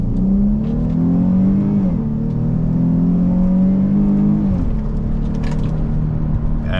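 A 2023 Chrysler 300S with all-wheel drive accelerates hard, its engine note climbing steadily through gears with clear pitch drops at each shift, loud and close inside the cabin.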